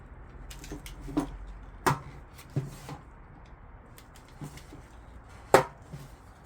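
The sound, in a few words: knife lightly cutting car speaker cable insulation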